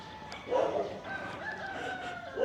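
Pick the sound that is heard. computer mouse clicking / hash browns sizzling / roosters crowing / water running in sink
roosters crowing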